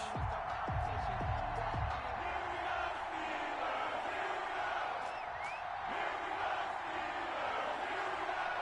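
A stadium crowd in the Madden 21 football game fills a Browns versus Steelers match with a faint, steady roar, with brief voice-like swells early on.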